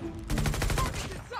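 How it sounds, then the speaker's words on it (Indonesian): Type 19 rifle fire in Call of Duty Mobile: a loud, rapid burst of roughly ten closely spaced shots after a brief quiet moment, ringing continuously for about a second before tailing off, with no talk over it. "asal nembak gue"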